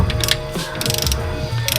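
Ratchet tightening the cylinder head bolts during a head gasket repair on a Honda Prelude, close and loud, with rapid bursts of clicking broken by short pauses.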